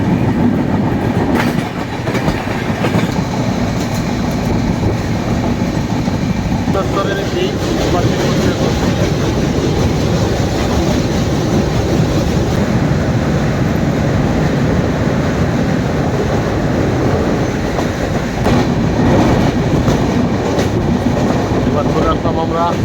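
A passenger train on the Kolkata to Darjeeling route rolls along steadily, with a loud continuous rumble and rhythmic rail clatter throughout, while voices talk faintly beneath the noise.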